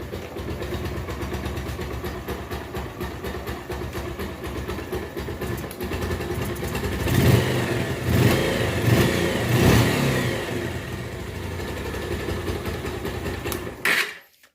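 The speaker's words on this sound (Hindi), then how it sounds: "तो अब बाइक को करते स्टार्ट और आपको इसकी साउंड सुनाता है" A Bajaj Pulsar 150 motorcycle engine idles with a rapid ticking chatter, then revs up in several loud surges before settling and cutting off abruptly.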